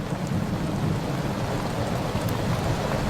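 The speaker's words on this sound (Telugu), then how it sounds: "బయట వర్షం పడుతుంది కదా" Steady rain falls outdoors, a dense even hiss with low rumbling undertones that holds at constant loudness throughout, with no voices over it.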